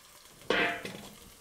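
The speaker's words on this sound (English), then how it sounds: "Listen to that sizzle." Meat, likely rabbit from a garden, hits a hot pan with a sudden close sizzle that flares and then settles into a softer crackle, with no voices.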